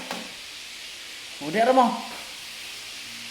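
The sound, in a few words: food frying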